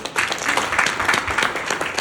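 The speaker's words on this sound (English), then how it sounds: "Let's give him a massive round of applause." Audience applause at a business event, a steady wash of many hands clapping throughout, fairly loud and close, with no voices standing out.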